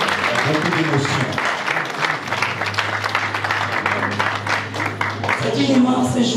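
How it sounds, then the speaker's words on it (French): Applause from an audience at a memorial mass, steady clapping throughout with voices and crowd murmur mixed in and a low sustained tone underneath. "Donc je vous prie de l'applaudir, s'il vous plaît."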